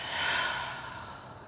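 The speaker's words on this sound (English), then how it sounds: "you take a deep breath, inhaling through your nose. Exhale, release." One deep breath is drawn in through the nose and released in a long, soft exhale during a calm mindfulness exercise. The airy rush is close and gentle and fades gradually, with no talking.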